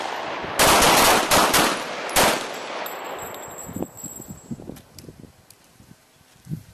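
Handgun fire on a defensive shooting drill range: a rapid string of about five sharp, loud shots in the first couple of seconds, followed by a ringing tone and scattered lighter clanks and rustles.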